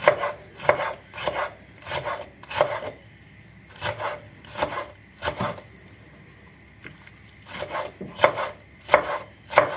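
Hot green peppers sliced thin with a knife on a cutting board, crisp rhythmic chopping strokes in quick bursts separated by short pauses, close and clear with no talking.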